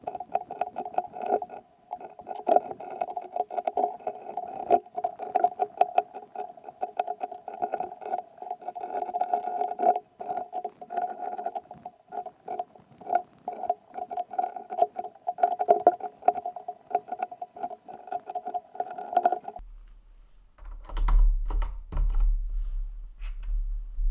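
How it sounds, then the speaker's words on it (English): Keycaps being pressed back onto a Thinkpad-style mechanical keyboard (Tex Shinobi), a long run of quick plastic clicks and taps in an irregular patter, close and moderately loud, ending with a few soft handling thuds. "let's put back all the keys"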